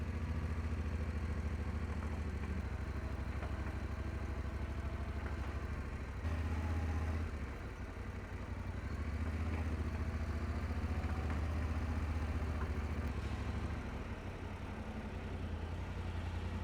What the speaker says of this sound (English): the bike's making a funny clunking sound coming from the engine.